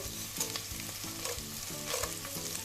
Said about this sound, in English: along with the onions, we'll add our chana dal